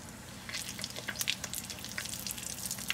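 Bay leaves crackle and spit in hot oil in a pan while fish head with cabbage is being prepared, a steady close sizzle with sharp popping bursts throughout.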